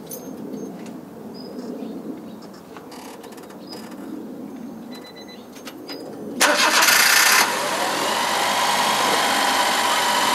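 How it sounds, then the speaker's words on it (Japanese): A Honda Acty van engine cranks and catches with a sudden roar, then settles into a steady idle hum. Birds chirp faintly before it starts. "ちょっとアイドリングします。"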